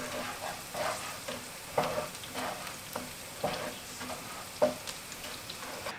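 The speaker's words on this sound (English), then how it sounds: "Mix onion with garlic." Onion and garlic frying in a pan while being stirred, soft sizzle with periodic spoon scrapes and light knocks, close but fairly quiet.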